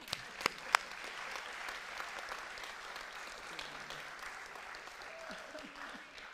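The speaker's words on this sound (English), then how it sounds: "Give him a round of applause." A short burst of light applause at a school board meeting, with a few sharp claps standing out, quick and fairly distant, fading into room noise.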